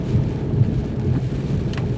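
Torrential downpour from a storm ahead of Hurricane Ian, a steady dense wash of heavy rain with low rumbling gusts, continuous and fairly loud throughout.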